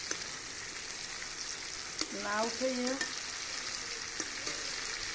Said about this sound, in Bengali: আমি এরকম করে এটা একটু হালকা লাল করে ভেজে নেব